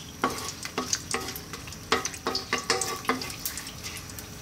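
Aromatics fry in hot oil for an eggplant and spicy tomato sauce dish, a close crackling sizzle broken by quick, repeated stirring scrapes in an uneven rhythm.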